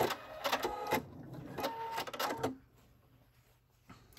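A home sewing machine stitches the pieces of a quilted mug rug in two short whirring runs of rapid mechanical chatter, followed by quiet.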